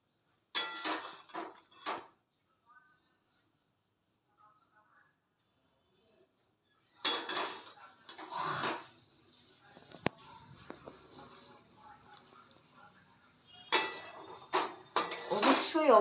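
Dishes and cutlery clatter in short bursts while eggplant bharta is served, with sharp clinks and scraping plate knocks separated by quiet gaps and faint background sounds.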